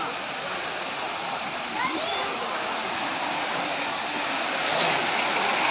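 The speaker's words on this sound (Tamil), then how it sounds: "தண்ணி அப்படியே பயங்கரமாக ஒரு ஃபோர்ஸாக மேலே அடிக்கிற மாதிரி வச்சுருக்காங்க செட் பண்ணி." Water fountain jets at the Mysore zoo spray forcefully upward, giving a steady, loud, close rush of splashing water that holds without pause.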